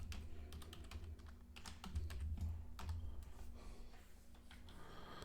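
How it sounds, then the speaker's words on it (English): Fingers type a password on a computer keyboard, a quick uneven patter of close key clicks over a low background hum. "I'll move this over here so no one tries to watch the keystrokes and steal my password"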